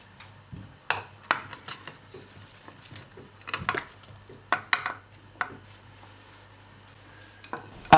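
Peeled, halved turnips and carrots dropped into a pot of beef and vegetable stew, with scattered light knocks, clinks and splashy thuds close by over a low hum, no talking.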